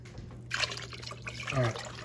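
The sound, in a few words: can of water poured into oxtail stew pot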